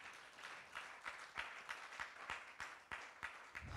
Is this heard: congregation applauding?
yes